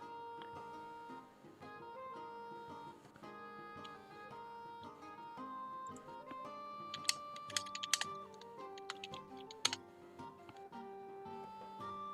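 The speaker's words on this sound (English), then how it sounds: "They're typing." Typing on a computer keyboard during an online Dungeons & Dragons session: a quiet, continuous patter of key clicks, with a few sharper, louder taps in the latter half, under faint background music.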